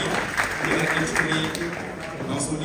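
Indoor audience applause at a children's and youth book fair in Dakar, a dense steady wash of clapping filling the whole moment, with a voice talking over it.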